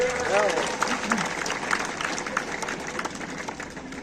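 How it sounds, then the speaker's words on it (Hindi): A crowd claps steadily, a broad wash of applause that slowly fades, with a voice speaking over it near the start. "हाँ, ताली बजाओ इसके लिए।"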